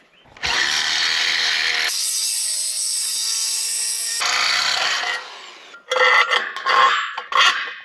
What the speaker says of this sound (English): One drill coming up.